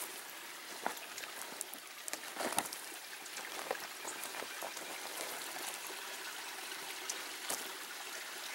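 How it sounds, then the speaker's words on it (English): A spring stream trickles down a ravine in late-August elk country, giving a steady soft babble of running water with scattered faint drips and splashes, close but quiet. "So here's a spring coming down through the ravine."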